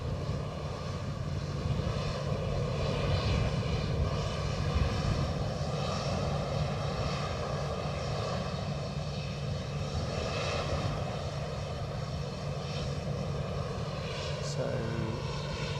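A SunExpress airliner from Antalya arriving at Edinburgh Airport, a steady sustained engine roar at moderate distance, even and unbroken for the whole stretch.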